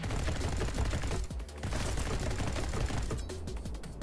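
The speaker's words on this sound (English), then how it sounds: "I've already had the machine gun." Rapid machine gun fire in the video game Neon White, dense crackling bursts of shots fired in quick succession, loud and continuous with a brief pause midway.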